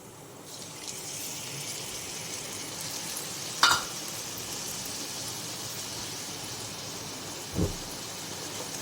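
Spice mixture poured into a pan of fried ginger for a vegetarian vegetable dish sizzles steadily and close up, with a sharp clatter of a utensil partway through and a softer knock near the end.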